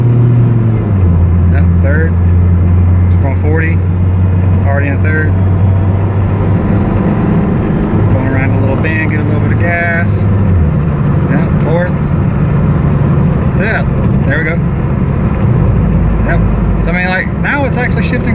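A Toyota MR2 with a transmission issue accelerates from inside the cabin, its engine drone rising and then dropping at each gear change. Someone talks over the steady road and engine noise.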